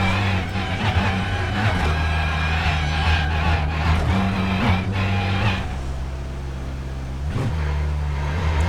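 Racing car engines in the iRacing sim game during a pit stop at the 3 hours of Le Mans, a steady loud engine drone with shifting pitch and brief surges, close throughout and without voices.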